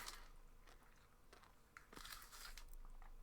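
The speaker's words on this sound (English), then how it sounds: "I hope you can't hear all the crunching" Mini Smarties candy crunches close to the mic in quiet, irregular bites and chewing, with sharper crackly bursts in the later part.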